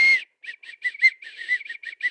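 A small dove-shaped whistle blown in a quick series of about ten short, bright chirping toots after one longer opening blast, close and alone with no talk.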